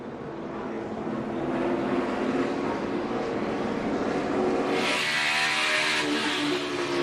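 NASCAR stock car at the 2013 FedEx 400 in Dover runs on a flat right front tire, its engine roaring continuously and close from on board, with rumbling and a rising hiss in the last seconds.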